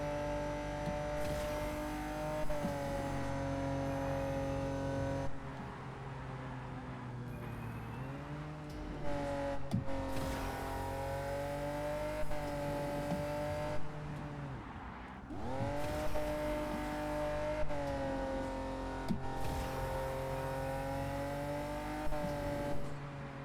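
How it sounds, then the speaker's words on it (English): A racing car in the video game Wilder World speeds along with nitrous boost: a loud, continuous engine drone whose pitch rises and dips as it shifts and accelerates, with short dropouts between gears. "we're going to get up to speed at 150, then we're going to hit our NOS to get over to the finish line at full speed"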